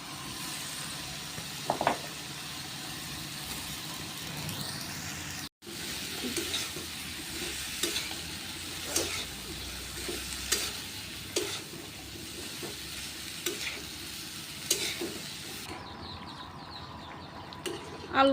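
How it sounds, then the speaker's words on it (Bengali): Potatoes and tomatoes sauté together in a pan, a continuous low sizzle broken by repeated scraping strokes and clinks of stirring at an uneven rhythm, with no voices. "আলু টমেটো একসাথে দিয়ে কষাবো ভালো করে।"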